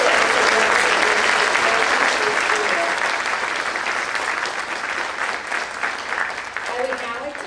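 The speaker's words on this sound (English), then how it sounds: "Let's give a big round of applause to our physical fitness awards." Loud, sustained applause from a school audience at a Move Up Day ceremony for physical fitness award recipients, dense clapping holding steady for several seconds with some talk underneath.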